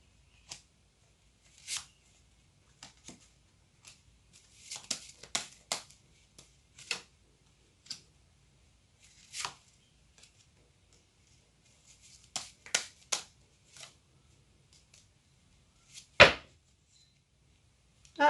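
Tarot cards are laid out one by one on a table, giving sparse, soft slaps and flicks scattered across a quiet background, with one sharper snap near the end.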